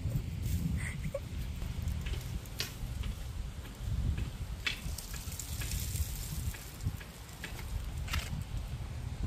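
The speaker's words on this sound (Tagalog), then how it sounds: "yung tunog ng mga dahon na nililipad ng hangin" Dry autumn leaves rustle and scrape in a steady outdoor wind, with broadband noise throughout and occasional brighter crackles, fairly close and continuous.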